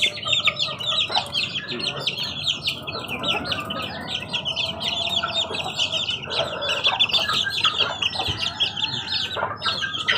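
Chicks and chickens in a coop, a busy chorus of high peeping and clucking running steadily throughout, close and fairly loud with soft rustling below.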